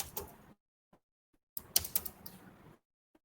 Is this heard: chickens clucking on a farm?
no